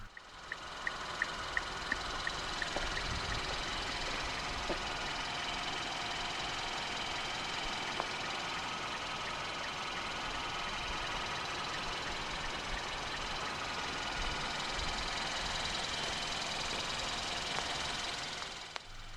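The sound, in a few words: 2014 Kia cee'd 1.6 GDI engine idling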